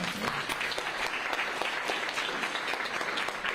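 Audience applause at a city council panel, a dense, steady wash of many hands clapping at moderate volume, continuing without pause across the whole stretch.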